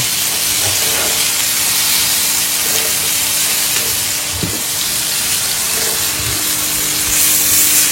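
Fish frying in a pan for a village-style fish fry, a steady loud hiss and sizzle throughout with a few soft clunks, no talking.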